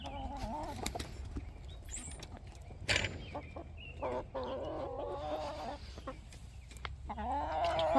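Hens in a farm setting cluck and murmur continuously up close, with brief sharper calls and occasional thumps, no talk over them.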